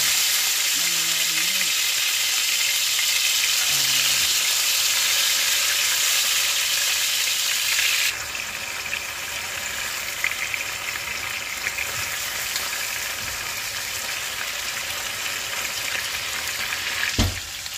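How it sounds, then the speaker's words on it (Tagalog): Pieces of food fry in hot oil for a spareribs dish, a constant close, hissing sizzle that runs throughout with faint crackle, turning slightly quieter partway through, with brief faint talk near the start. "So, ito naman yung ating prituhin."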